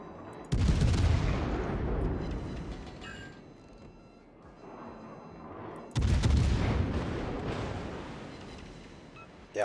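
Gunfire from a first-person shooter video game, two heavy blasts that hit suddenly and then ring out and fade in long reverberating tails, with no talking.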